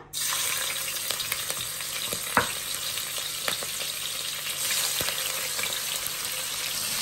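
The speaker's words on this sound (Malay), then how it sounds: "Okay, kita goreng udang ya." Shell-on shrimp fry in a hot pan for nasi goreng tomyam, a steady loud sizzle with scattered crackles and a few sharp pops, with no talking over it.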